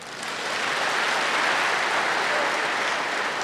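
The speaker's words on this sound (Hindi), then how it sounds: "इनके लिए जोर से ताली बजाएंगे।" A gathering at a spiritual assembly breaks into loud applause, the clapping swelling quickly in the first moment and then holding as a thick, uniform roar of many hands.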